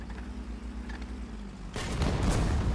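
Tank guns in a World of Tanks-style team match exchange fire, a muffled distant crack early on, then a louder burst of booming shots and rumbling from about halfway through, over steady engine drone.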